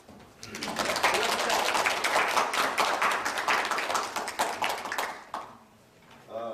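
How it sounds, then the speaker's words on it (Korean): A lecture audience at a university graduate school gives a guest lecturer a warm round of applause, dense steady clapping for about five seconds that tapers off, followed by a brief pause and a voice. "박수로 맞이하겠습니다"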